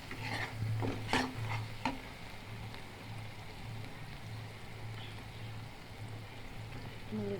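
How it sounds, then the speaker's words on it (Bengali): Chilies stirred in a frying pan, a soft continuous sizzle with a few spatula scrapes and knocks early on, fairly faint and close. "মরিচ একটু ভালো করে নেড়ে নেব"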